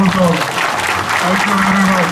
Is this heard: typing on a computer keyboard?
no